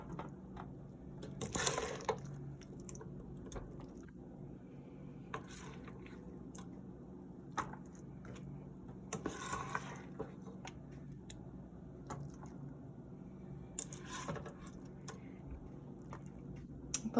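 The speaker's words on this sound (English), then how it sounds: "Put the mac and cheese into the pan." Kraft mac and cheese spooned into a greased baking pan, heard as soft, wet squishing plops at a few moments over a quiet background.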